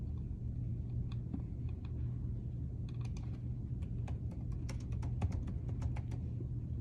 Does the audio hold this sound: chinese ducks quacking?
no